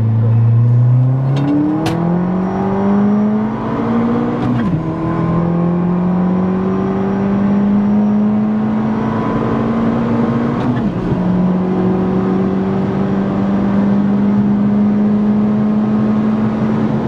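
At a car meet, a car with a ported stock exhaust manifold holds a loud, steady engine drone during a burnout, the pitch climbing and resetting through several shifts, close and continuous with no talk.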